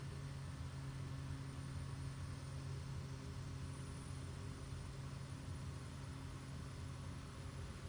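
Steady propeller aircraft engine drone in Microsoft Flight Simulator 2020, a constant low hum with a faint high whine, unbroken and even throughout.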